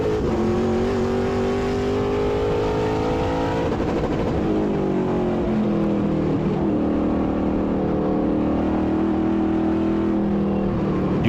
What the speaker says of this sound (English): You can hear how they're feathering the throttle there through turn 4 and 4A and 5.